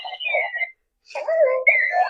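A Clocky rolling alarm clock rings with warbling electronic tones, cutting out briefly in a fake-out pause before resuming loudly and continuously, close to the listener.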